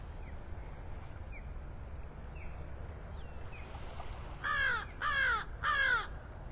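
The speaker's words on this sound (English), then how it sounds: "One of the beach blackbirds." A beach blackbird at Clam Pass in North Naples, Florida, gives three loud, harsh calls in quick succession early in the morning, after fainter distant calls over a soft outdoor hush.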